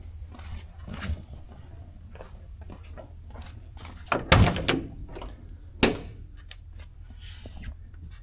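The passenger door of a 1964 Chevrolet C20 truck is handled, with a faint click followed by a loud solid thud and a second sharper knock a moment later, against quiet background.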